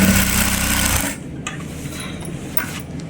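An electric sewing machine stitches elastic into a pair of straight pants in a quick, loud, buzzing burst of about a second, then stops, leaving a quiet room.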